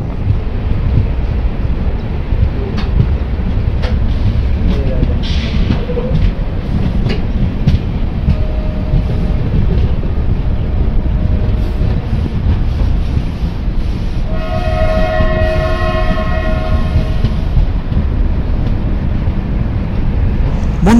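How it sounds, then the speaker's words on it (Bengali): From inside the Garib Rath Express running from Jaipur to Ajmer in Rajasthan, a loud steady rumble mixes with clickety-clack and wind buffeting, and a sustained horn blast sounds partway through. "খুব সুন্দর ট্রেনটা, টাইমেই কিন্তু একদম চলে, একদম লেট নেই, ট্রেন টাইমেই চলছে।"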